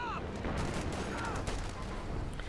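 Distant MG34 machine-gun fire in a Company of Heroes 2 battle, a dense low rumble of shots and explosions running steadily under the game's battle noise.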